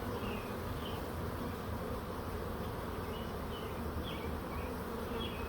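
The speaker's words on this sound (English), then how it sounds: "all these bees will funnel up in, and they'll start to build out that colony in there" A honeybee swarm hums around a backyard swarm trap as a dense, continuous buzz, with individual bees flying close past now and then against the steady drone.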